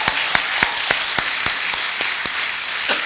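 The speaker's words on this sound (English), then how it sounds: "Let's give both teams a round of applause." Clapping for secondary school debate teams at a semi-final competition, a steady run of single, evenly spaced claps heard alone, sounding like one or a few people rather than a full crowd.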